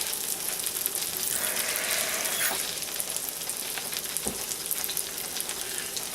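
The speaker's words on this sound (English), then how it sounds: "Alright, pancakes are cooking." Pancakes sizzling steadily in a hot frying pan, a close, continuous crackling hiss with a couple of faint utensil knocks, no voices.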